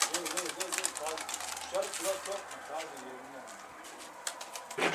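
A Mardin pigeon, an escaped bird, circles overhead, its soft coos coming in short bursts beneath steady nearby conversation between men outdoors.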